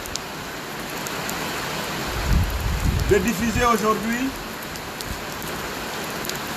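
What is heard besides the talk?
heavy rain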